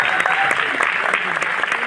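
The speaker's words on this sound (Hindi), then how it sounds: "एक बार चाहूंगा इनके लिए जोरदार तालियां।" Sustained audience applause fills a hall during a success celebration event in Delhi, a dense, steady wash of many hands clapping at close range with no gaps, lasting the whole stretch.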